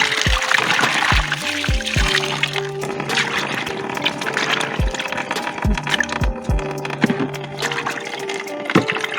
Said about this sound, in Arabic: نغسلو الغسله الاولى ونقطعوا واحد الحامضه من هنايا نغسلو بها الدجاج